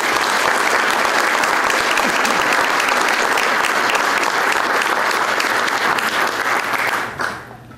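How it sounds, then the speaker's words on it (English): Full audience applause at a chamber of commerce economic outlook event, a thick steady wash of clapping lasting about seven seconds before quickly dying away. "Let's give People's State Bank a round of applause."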